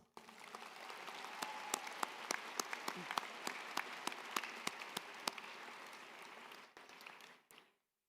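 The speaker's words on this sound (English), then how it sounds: "Let's give them a round of applause" Audience applause at a high school commencement, a broad continuous wash of many hands clapping with a few sharp, close claps punctuating it, then fading out at the end.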